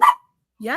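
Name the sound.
dog barking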